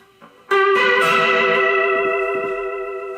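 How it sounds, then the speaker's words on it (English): Sustained distorted electric guitar chord swirling with a fast, watery chorus pedal modulation, loud and steady after a brief quiet pluck, like a Leslie rotating speaker. "it gives a very watery effect. It almost sounds like a Leslie."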